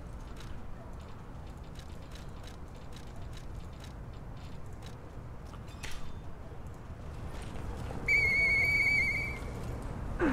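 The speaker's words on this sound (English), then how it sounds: "I know that whistle." A high, steady whistle sounds for about a second in the video game Lies of P, rising over a low droning game ambience with scattered mechanical clicks.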